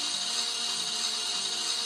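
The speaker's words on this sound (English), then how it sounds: "It must be someone drilling." A power drill runs on a plane with a steady, unbroken whirring grind. It fills the whole moment at an even level, and no voices are heard.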